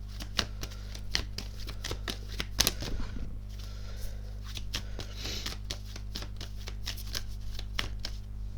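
Oracle cards are shuffled by hand in a quick run of crisp riffling flicks and soft slides, close and steady, against a low hum and no talk.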